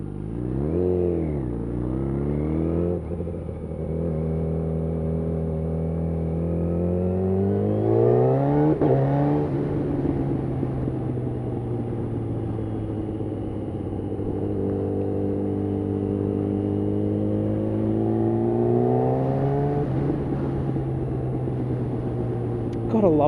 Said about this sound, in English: crackle of the exhaust and the quickshift, I absolutely love the noises this thing makes